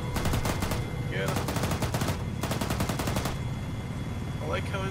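Bursts of rapid automatic gunfire in the Arma 3 video game, several long rattling volleys separated by short pauses, loud and close, with faint voices in the background.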